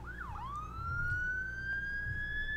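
An ambulance siren played in a speech-therapy app, a clear electronic wail that dips and then rises into a long sustained tone, moderately loud over a low background rumble.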